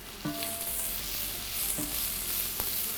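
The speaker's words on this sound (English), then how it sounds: "we're gonna start by sauteing our onions" Onions sautéing in a pan for a Mexican picadillo give a steady, soft sizzle throughout, with a few faint clinks and stirring scrapes standing out near the start and again later.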